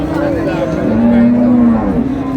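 Sahiwal cows and calves at a busy village cattle market lowing, with one long, loud moo drawn out near the middle over a steady murmur of market crowd noise.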